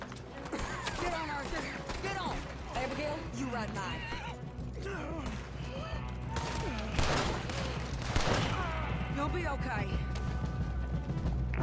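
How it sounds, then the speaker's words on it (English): Gunfire crackles through a chaotic shootout in Red Dead Redemption 2, mixed with horses neighing, hooves and crashes, while voices shout throughout. "Stop shooting me!"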